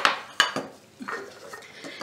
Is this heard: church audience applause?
no